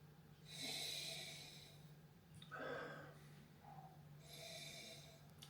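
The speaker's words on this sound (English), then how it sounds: "let's give this a good sniff, swirl it around in our glass" Person sniffing a fruity white wine from Uruguay in a glass: three close, breathy inhalations through the nose, separated by short pauses, quiet and intimate.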